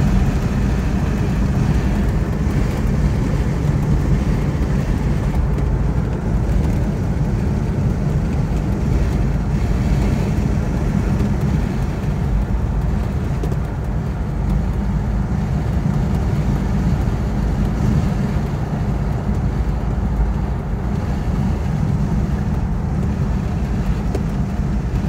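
A 1962 Bentley S2 Continental Flying Spur with H.J. Mulliner coachwork picks up speed along a straight, its steady low engine drone and road rumble continuous and moderately loud inside the car.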